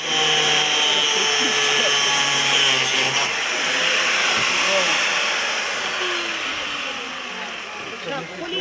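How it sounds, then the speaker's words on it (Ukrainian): A loud, continuous high-pitched grinding whine of an angle grinder cutting through a metal lock on a church door, steady and harsh, easing slightly toward the end. "замок вирішили зняти болгаркою під наглядом поліції"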